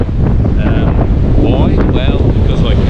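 Strong wind roars across an open beach on a wild day, buffeting the microphone with a loud, steady broadband rush and gusty swells, with surf blended underneath.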